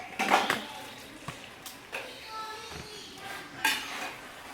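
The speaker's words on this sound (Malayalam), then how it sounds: "ഇനി നമുക്കിതിലേക്ക് ഫ്രൈ ചെയ്ത് വെച്ച ചിക്കൻ മുഴുവനായിട്ട് ഇട്ട് കൊടുക്കാം." Fried chicken is tipped into a big pot of masala for Kerala-style chicken dum biryani, bringing a few metallic clanks of utensils against the pot amid soft scraping, moderately close.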